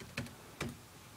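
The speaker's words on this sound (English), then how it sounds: "I'm typing in the name of this channel's website blog thing." Two crisp keystrokes on a computer keyboard, typed one-handed, close and quiet with nothing else around.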